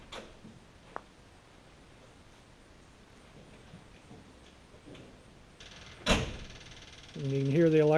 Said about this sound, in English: And you can hear the electric fuel pump running.